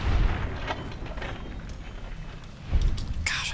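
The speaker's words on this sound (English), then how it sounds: "Shoot at me, not Boone." Gunfire in Fallout New Vegas combat: a heavy burst at the start and another near the end, over a low rumbling game backdrop.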